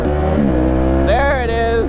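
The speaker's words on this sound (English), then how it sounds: "The two-stroke sound a little boggy right there." A two-stroke Yamaha Banshee quad engine runs loud and close, its rough buzzing note bogging low before the revs climb and waver in a rising whine.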